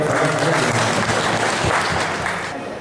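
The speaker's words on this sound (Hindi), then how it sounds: "सभी जोरदार ताली हो जाए" Crowd applause at a farmers' procurement centre opening ceremony at a warehouse, loud and dense clapping from many people, steady throughout and easing slightly near the end.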